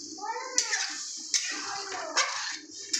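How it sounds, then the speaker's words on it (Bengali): Water is poured into a pan of fried curry spices for a fish roe fritter curry, a splashing, hissing rush broken by several short bursts, with a voice talking over it. "এবার আমি জল দিয়ে দিলাম"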